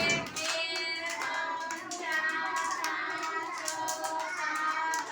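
A group of young children claps steadily for several seconds, the quick, close handclaps running together in a lively, slightly uneven rhythm with faint voices underneath.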